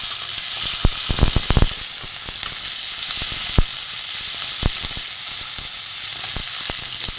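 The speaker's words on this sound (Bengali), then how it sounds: "রসুন পেঁয়াজ আলুর সাথে ভেজে নেব।" Chopped garlic, onion and potato fry in oil in a pan, giving a steady close sizzle broken by several sharp knocks and clinks of a spatula against the pan.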